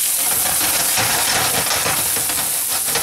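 Chopped white onion sizzling and hissing steadily in a hot frying pan, a loud, dense, continuous crackle filling the whole stretch with no talking.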